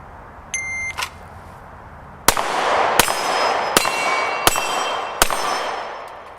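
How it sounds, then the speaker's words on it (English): A SIG P320 X-Carry pistol fires several rapid shots at a steel gong target, each a loud sharp crack followed by a ringing metallic clang, with a couple of fainter electronic timer beeps before the string. "I'm gonna dump them on the gong."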